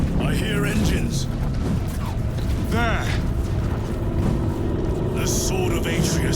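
Heavy engines draw closer in the video game Warhammer 40000: Space Marine 2, a dense, steady low rumble running loud and continuous beneath voices talking throughout.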